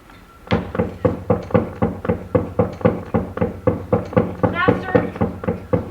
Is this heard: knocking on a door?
yes